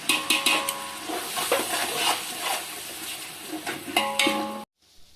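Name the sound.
stirring curd into chicken biryani masala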